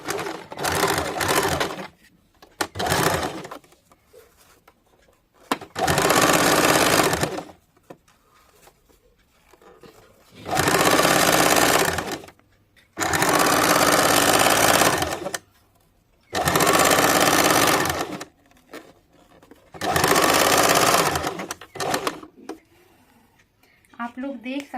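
An electric sewing machine stitches a six-panel petticoat in loud, steady bursts of a few seconds each, separated by quiet pauses, with a voice talking between runs.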